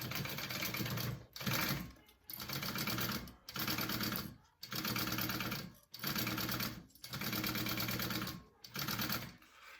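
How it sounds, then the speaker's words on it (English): A sewing machine stitches a zipper piece onto a fabric bag in a series of rapid, steady whirring runs, about seven bursts separated by short pauses, close and clear with no talking. "I'm going to go ahead and sew that piece on."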